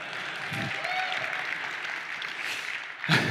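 Audience at a conference talk on React Server Components claps in a short burst of applause, moderately loud and brief, fading quickly.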